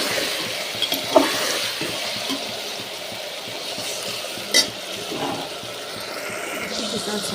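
Aloo baingan sabzi of potato and aubergine with tomato and salt, stirred and frying in a pan: a continuous sizzle broken by a few sharp scrapes and clinks of a spoon against metal, with no talk.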